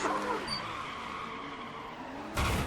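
Car spinning out in the F1 2015 racing game at Austria, a sustained engine drone with a tonal tyre-skid squeal sweeping through it, ending in a louder burst of noise.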